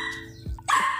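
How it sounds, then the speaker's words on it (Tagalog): A single sharp dog bark close by, preceded by a brief squeaky yip, short and moderately loud. "mga tricks na pagtahol ng aso"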